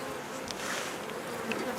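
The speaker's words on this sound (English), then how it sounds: "the bees are doing everything that they want to do here" Honey bees buzz thickly and close at an open hive as it is smoked during a May beginner beekeeping class in Swanzey, New Hampshire, a steady swarming drone without talk.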